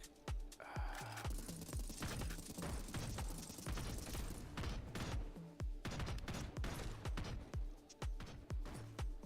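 Rapid gunfire in a Web3 shooter video game, dense bursts of automatic shots crackling almost nonstop with brief pauses, loud and continuous throughout.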